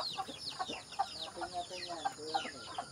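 Native Filipino chickens cluck continuously in a close, busy chorus of repeated short calls, with no voices over them.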